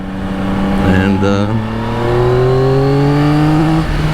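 A 2024 Yamaha XSR900 inline-three motorcycle accelerating hard to high RPM, its engine note climbing steadily in pitch through a gear, close and loud, with a rider's voice briefly heard over it.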